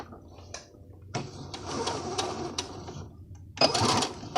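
A sewing machine stitches the scallop waist of a skirt in short, stop-start bursts, with faint clicks between runs and a final quick spurt, fairly quiet and close.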